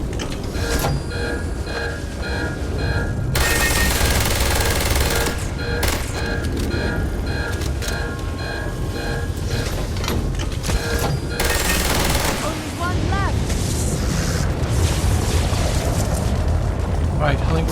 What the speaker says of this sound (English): Something's shooting me and I don't know what